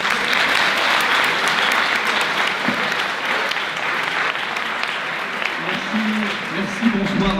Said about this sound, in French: un applaudissement pour Monsieur Bertrand Raquet